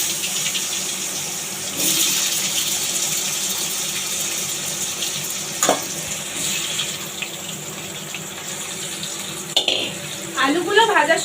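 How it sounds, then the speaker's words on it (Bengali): Large cut potato pieces fry in oil left over from frying fish, making a continuous rushing sizzle with a few scrapes and knocks of a utensil against the pan, close by, and a brief voice near the end. "সেই মাছ ভাজার তেলেই এবার আমি আলুগুলো ভেজে নেব।"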